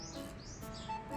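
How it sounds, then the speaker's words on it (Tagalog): Soft, high bird chirps come in a few short sweeping calls over a faint hum, quiet and somewhat distant, with no voices. "Yan, may ibon."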